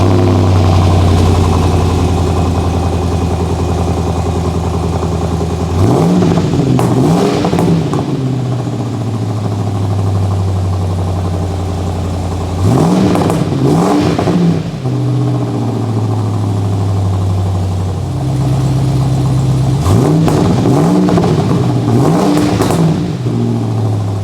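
Land Rover Discovery V8 with an aftermarket exhaust, idling with a deep burble and blipped three times into loud revs that rise and fall back, each rev a few seconds long, close and alone.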